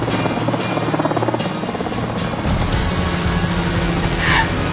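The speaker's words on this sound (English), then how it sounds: "Load the helicopters and fly them out." A helicopter roars close by in the wilderness with a steady thumping rotor chop and loud engine whine, the noise swelling slightly near the end.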